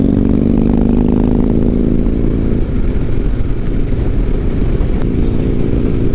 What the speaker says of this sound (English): it's a pretty decent ride over there on the Softail today